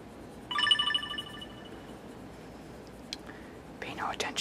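A mobile phone ringtone sounds during an indoor drawing session: a short, bright, melodic chime plays about a second before fading, followed by quiet desk noises and a soft rustle near the end.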